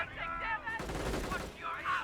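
Sector artillery in Company of Heroes pounds the area with a cluster of sharp explosive blasts and crackling gunfire in quick succession, moderately loud in a busy battle mix.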